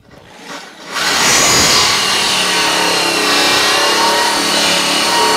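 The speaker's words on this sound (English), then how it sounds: "And let's drill our hole." A power drill starts up after a brief quiet moment and grinds steadily into material, a loud continuous whine and rasp with no talking.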